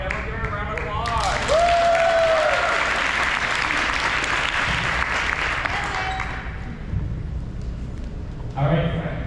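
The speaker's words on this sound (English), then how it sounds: "let's give her a round of applause." Sustained applause from a crowd in a gym during a winter basketball combine, loud and dense for several seconds with voices mixed in, then tapering off.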